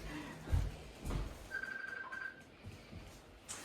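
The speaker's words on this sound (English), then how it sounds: "my phone is ringing, so just 1 second." A phone rings briefly as a soft electronic tone, a single short burst heard faintly at low volume amid light room noise and a few muffled bumps.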